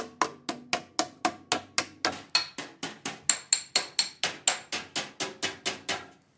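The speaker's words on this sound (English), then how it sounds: "I just want to clamp it on and just go around with a hammer and dolly" Hammer and dolly shaping the metal sides of a 1950s English Rose kitchen sink: about twenty sharp, ringing metallic blows in a steady, even rhythm, close and clear with nothing else heard.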